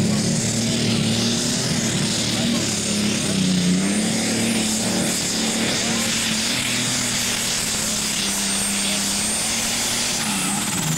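A John Deere pulling tractor from Ohio roars loud and sustained at a tractor pull, its engine droning at a steady high pitch with a slight wavering tone throughout.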